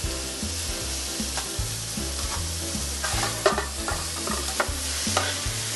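Spaghetti squash sizzles and crackles steadily in a hot pan while being reheated and dried out for a keto lobster Alfredo, with occasional scraping stirs, close and moderately loud over a faint music bed.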